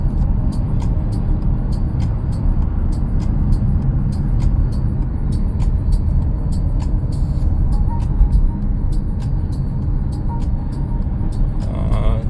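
Volkswagen Touareg driving along a city avenue at 60 km/h, a loud, constant low road and engine rumble heard from inside the cabin, with faint regular ticking above it.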